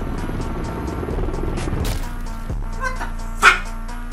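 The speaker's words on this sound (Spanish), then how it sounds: "Otro helicóptero. Dos helicópteros en una sola" Helicopter rotor chop in the game Call of Duty: Modern Warfare 3, a steady thudding drone for the first half that breaks off, followed by quieter game effects and a brief sharp accent near the end.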